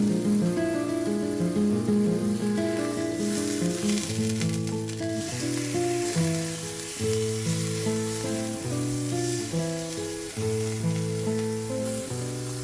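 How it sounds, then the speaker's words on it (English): Smash burger patties searing in an oiled pan give a steady sizzle through the whole stretch, partly covered by louder tonal background music. "We place our patties on the pan and cook it for about 2 minutes per side."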